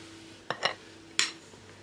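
A spoon stirs flour, salt and yeast starter together in a bowl for pirozhki dough, giving two or three short, quiet clinking scrapes against the bowl with near silence between them.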